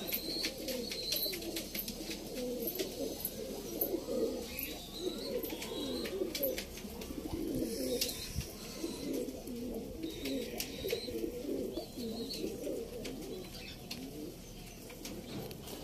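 Pigeons coo steadily in a loft, soft overlapping throaty calls forming a continuous low murmur with occasional higher chirps and clicks, fairly close and alone without talk.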